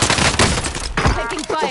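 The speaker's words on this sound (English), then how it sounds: "Taking fire here." Rapid gunfire from a Call of Duty Warzone match rattles in loud, dense bursts, with a few sharper cracks breaking through the barrage.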